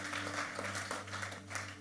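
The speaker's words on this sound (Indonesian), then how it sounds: "Tepuk tangan." A church congregation claps steadily and fairly softly for a couple of seconds over a low electrical hum.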